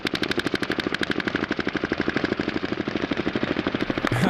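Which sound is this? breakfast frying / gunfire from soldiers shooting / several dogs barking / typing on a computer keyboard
gunfire from soldiers shooting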